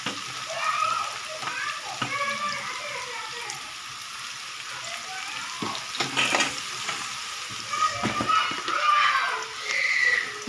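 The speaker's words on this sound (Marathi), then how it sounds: "हा कांदा तळून घेणार आहेत बिर्याणीसाठी मस्त वरून टाकायला" Sliced onions fry in a pan for biryani with a steady close sizzle, broken by intermittent stirring and scraping sounds.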